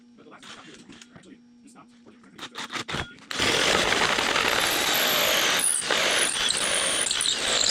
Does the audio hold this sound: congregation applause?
no